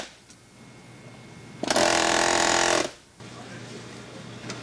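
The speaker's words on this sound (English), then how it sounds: "I'll show the other way of doing it with the air hammer." A pneumatic air hammer in a shop runs in one loud, steady burst of about a second, with quieter background noise before and after.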